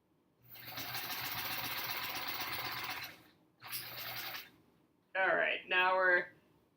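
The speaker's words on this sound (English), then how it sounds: "we're stitching on to the other dark blue border now" A sewing machine stitches a quilt border in two runs, a long steady whir of about three seconds and then a shorter burst. A person talks briefly afterward.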